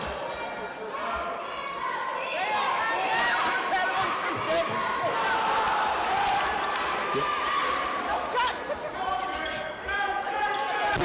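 Basketball dribbled during a Loyalsock versus Trinity state playoff game, soft repeated bounces on the court beneath steady crowd noise and a commentator talking throughout.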